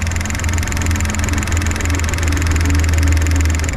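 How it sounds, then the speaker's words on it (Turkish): A 2023 Dacia Jogger's three-cylinder engine idles steadily close by, a low rhythmic thrum with a slightly uneven, lumpy pulse, running alone without pause. "Bir de motor sesini dinletmek istiyorum ben size."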